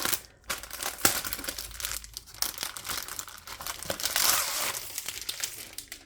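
A diamond painting canvas is pulled out of its plastic packaging with close, crisp crinkling and rustling, in bursts of crumpling that grow busier toward the end.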